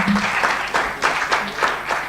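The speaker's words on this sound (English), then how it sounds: "please give him a round of applause" Conference audience at an agricultural policy stakeholders' session applauds a speaker, a loud, close burst of many hands clapping with uneven pulses, and a voice briefly heard beneath it.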